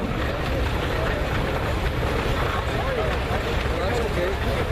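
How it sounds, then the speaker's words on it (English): A 1916 Case 80-horsepower tractor engine rolls along in a parade, giving off a loud, unbroken mechanical rumble with a busy outdoor crowd in the background. "1916 80 horse Case."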